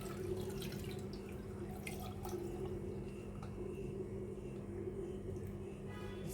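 Churned cream water from homemade desi ghee-making poured through a strainer into a bowl, a steady continuous trickle and splash of liquid running throughout, close and moderately loud.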